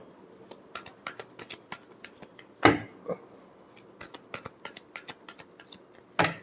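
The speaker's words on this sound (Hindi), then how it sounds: "last shuffle" Tarot cards being shuffled by hand, soft papery riffles and taps with a couple of sharper slaps, close and quiet with no voice.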